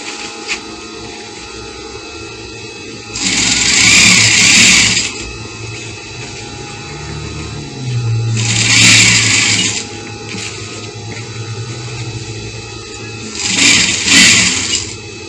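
A sewing machine whirs in three short bursts of stitching a seam in African print fabric for a jacket, each a few seconds long, separated by quieter pauses with a low background hum.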